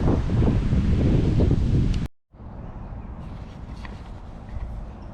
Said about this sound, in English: We're getting some gusts of wind here.